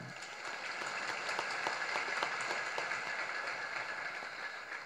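An audience applauds during a Jain religious sermon, a steady crowd of clapping hands that fills the hall for several seconds without any talk.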